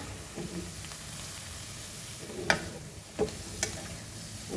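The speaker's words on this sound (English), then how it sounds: "fry these vegetables nicely" Vegetables for veg Hakka noodles fry in a pan with a low, steady sizzle, broken by a few sharp clinks and scrapes of stirring; no one speaks.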